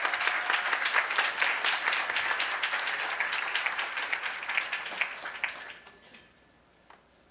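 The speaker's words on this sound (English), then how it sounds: "Let's give them another round of applause," A symposium audience breaks into dense, sustained applause from many hands, which trails off and fades to near quiet after about six seconds.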